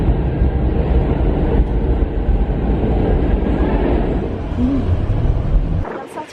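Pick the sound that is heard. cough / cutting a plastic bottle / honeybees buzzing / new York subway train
new York subway train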